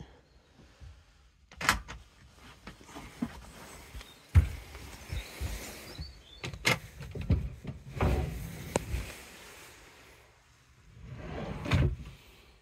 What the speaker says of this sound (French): Les ensembles de tiroirs à amorti.